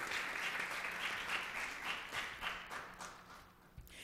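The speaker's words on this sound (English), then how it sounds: "Let's give yourself a round of applause." Audience members at a women's forum evening event clap in a fairly faint, distant-sounding round of applause that gradually thins out toward the end.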